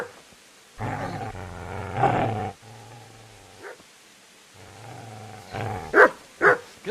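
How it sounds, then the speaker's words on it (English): A dog in the medieval game Kingdom Come: Deliverance barks and growls in several rough, close bursts, the last two sharp and loud. "Get away, you mutt!"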